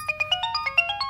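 A mobile phone rings with an incoming call, a quick melodic ringtone of about ten bright, evenly spaced beeps, close and clear.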